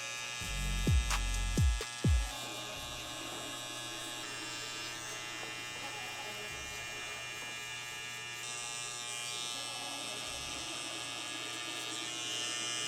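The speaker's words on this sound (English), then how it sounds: "I am using my trimmer in a forward position like I mentioned" A barber's electric hair trimmer buzzes steadily and quietly while cutting hair for a mid fade, held in a forward position with zero-gapped blades, after a few soft thumps at the start.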